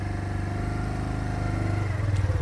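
A motorbike engine holds high revs at about 3,000 rpm while the clutch is slowly released, giving a steady, close, loud buzzing drone with a rhythmic pulse throughout and no speech.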